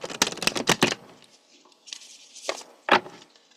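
Tarot cards shuffled by hand in a quick burst of crisp riffling slaps, followed by a pause and a few softer card movements, close and clear with no talking.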